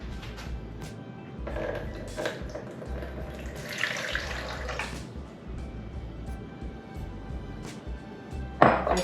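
Water running from a tap into a container for sourdough bread dough, a steady close flow with light clinks of a bowl, ending in a brief louder knock.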